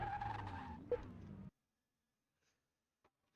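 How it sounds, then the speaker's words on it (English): A supercharged car engine in the racing and repair game Car Mechanic Simulator 2021 whines and revs harshly with a squealing, tyre-like tone for about a second and a half, then cuts off to near silence. "That's the terrible noise coming from the engine, Xavier."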